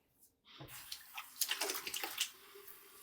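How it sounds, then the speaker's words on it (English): Cold water runs from a tap and splashes as a face is rinsed after a safety razor shave, in a quick run of close, irregular splashes and trickles. "I'm rinsing with cold water, but the cold water is stinging a bit"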